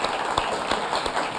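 A studio audience at a late-night talk show claps for a guest in a brief, dense burst of applause with a few louder individual claps standing out.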